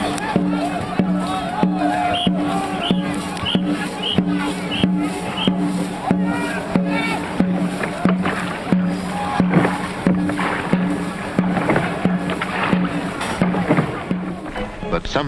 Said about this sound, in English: the townsfolk come along to cheer the competitors